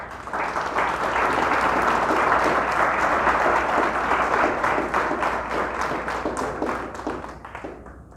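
Church congregation applauding during a Spanish-language sermon, dense sustained clapping that builds and holds for several seconds, then thins out and fades near the end.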